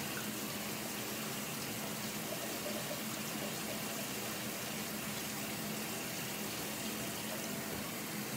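Tap water runs steadily and loudly while a coffee cup is washed under it, a continuous close gush with no pauses.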